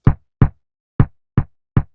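A drum hit processed through a slow-attack compressor that accentuates the front of each hit, five short dry punchy thumps at uneven intervals, close and loud with silence between them.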